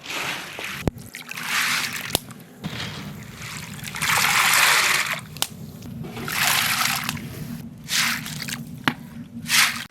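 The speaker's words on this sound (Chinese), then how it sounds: "把豆子洗上2遍，上锅煮。" Soybeans being washed by hand in water, with wet squishing, dripping and splashing in uneven bursts close up, mostly alone with no talk.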